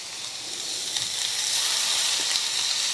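Beef sears in a hot skillet with a steady, moderate hissing sizzle, close and unbroken over a few seconds.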